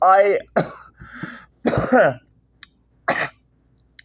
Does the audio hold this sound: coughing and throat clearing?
yes